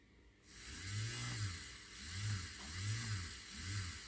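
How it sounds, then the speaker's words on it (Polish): The small electric motor of a PIKO BR 185 model locomotive whirs with a high steady whine, its pitch rising and falling in repeated surges, close by; the motor runs but the wheels do not turn. "Silnik pracuje, ale koła się nie kręcą."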